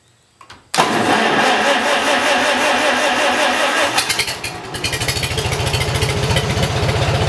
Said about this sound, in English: let me get her